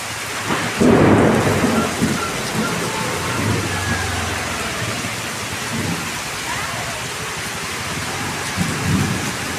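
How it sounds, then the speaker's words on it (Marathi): Heavy rain pours continuously while thunder rumbles loudly near the start, with gusty wind in a dense, unbroken downpour, in Khopoli. "जोरात आला वादळ वार सुटलं र. जोरात पाऊस पडतोय आज."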